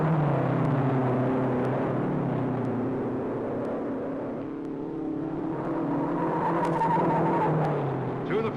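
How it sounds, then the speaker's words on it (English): 1955 Indianapolis 500 race cars roar through a turn, a loud, steady engine drone with tire squeal and a rising whine toward the end, a commentator talking over it. "Through the first turn of lap 3, Vukovic fights McGrath for the groove."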